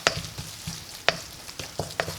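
A spoon stirs soya masala in a frying pan, with about half a dozen sharp scrapes and clacks at an uneven rhythm over a soft, low sizzle, close and without speech.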